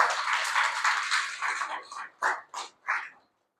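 Congregation in a Telugu church clapping hands together, a steady dense patter that thins into a few separate rhythmic claps toward the end, fairly close and with no voices over it.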